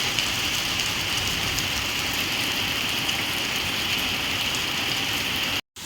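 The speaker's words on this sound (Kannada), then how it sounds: "ಇಲ್ಲೂ ಮಳೆ ಬರ್ತಾ ಇದೆ" Steady outdoor rain falling at a constant level, a dense broadband patter of drops on surfaces with no voices, briefly cutting out near the end.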